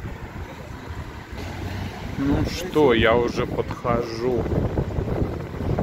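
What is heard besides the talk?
strong wind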